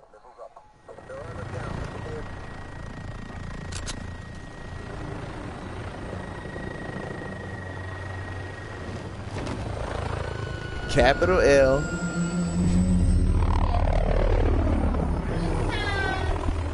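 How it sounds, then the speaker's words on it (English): A helicopter flies overhead, its droning rotor noise swelling louder toward the end while people talk over it nearby. "that helicopter noise was obnoxious"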